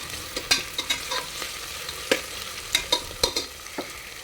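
A spoon stirs ginger-garlic paste in a pressure cooker for vegetable biryani, making a string of sharp, irregular metallic scrapes and clinks over a soft sizzle. The sounds are close and fairly loud, with no voices.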